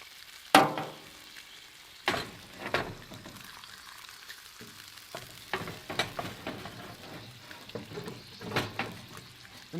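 Bacon fries quietly in a Field Company cast iron skillet, a soft steady sizzle broken by several sharp pops and scrapes scattered through the clip.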